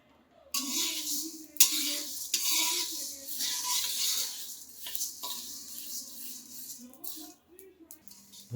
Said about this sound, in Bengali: এই যে দেখুন আমরা কড়াইয়ের মধ্যে ধনিয়াগুলোকে ভেজে নিচ্ছি